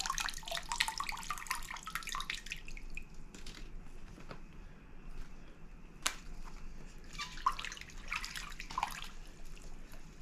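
Water drains from a plant pot of dry soil, trickling and splashing in bursts with scattered drips, close by, over a low steady background hum.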